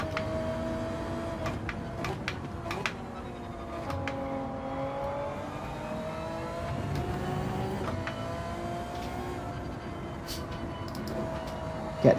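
A touring car in a Gran Turismo-style racing game, World Touring Car 800 race at Circuit de Sainte Croix, drones with a steady engine whine that rises and dips through gear changes, heard alone at moderate level.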